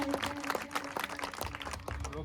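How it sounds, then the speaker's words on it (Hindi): Applause at an Independence Day event at a computer institute as a speaker is welcomed on stage, a loose round of clapping heard alongside voices and crowd noise, fairly faint. "तो एक बार जोरदार ताली हो जाए विवेक सर के लिए, हाथ खड़ा करके जोरदार ताली हो जाए"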